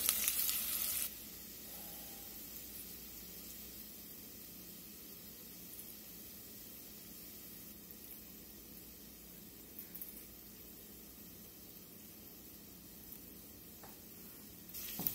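Onions cooking down in a flour roux for roasted garlic soup, a faint steady sizzle and hiss held evenly throughout, with no voices.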